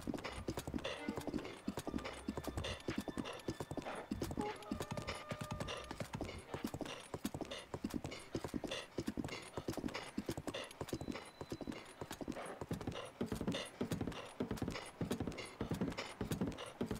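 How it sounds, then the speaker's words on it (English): A horse gallops steadily in Breath of the Wild, its hooves falling in a fast, even, continuous clip-clop that stays close and loud throughout, with a few brief whinnies and light game sounds mixed in. "And this is my horse."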